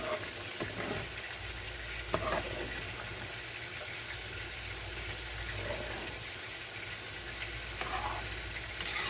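A spoon scrapes stuck rice off the bottom of a pot of sofrito garlic and onion rice, a few scattered scrapes and knocks over a quiet, steady sizzle.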